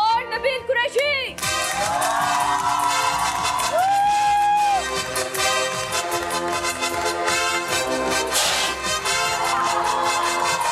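A studio audience on an Eid special morning show in Lahore cheers and whoops over loud music, with a crowd roar swelling beneath the song.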